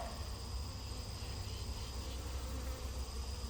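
Honeybee swarm from nearby hives buzzing steadily and continuously, a dense, even drone at moderate distance with no pauses and no voices.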